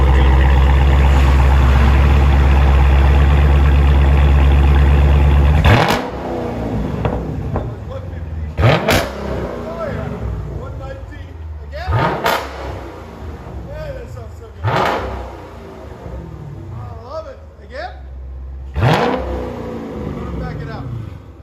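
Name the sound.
2016 Dodge Challenger 392 Hemi V8 exhaust idling and revving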